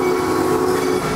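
A Miami Valley Railroad amusement-park train at Kings Island rolls steadily along its track, giving a continuous loud rumble with a sustained tonal whine or horn-like hum throughout.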